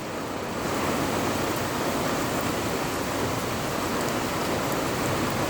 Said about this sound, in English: Something peaceful about the rain.